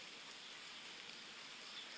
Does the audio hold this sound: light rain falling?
yes